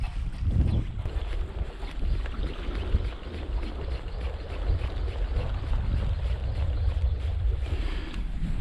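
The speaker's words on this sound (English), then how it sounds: "the wind is starting to blow quite hard" Strong wind blowing across an exposed shoreline in Arctic Norway roars steadily into the microphone, a heavy, continuous buffeting rumble with gusts that swell and ease throughout.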